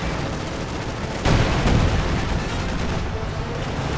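Gunfire crackling through a tank battle in a World War II strategy game, a sudden loud burst followed by dense continuous rattling and rumble that keeps going to the end, with no voices.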